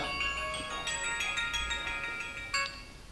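A mobile phone rings in the middle of a classroom physics lecture, playing a bright, melodic electronic ringtone that repeats for about three seconds at moderate loudness, with no one speaking over it.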